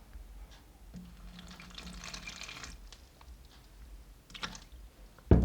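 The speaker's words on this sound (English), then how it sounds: "Pour some water." Water poured into a bowl of flour paste seasoned with salt, a soft trickling and splashing that runs faintly for several seconds with small clinks near the end.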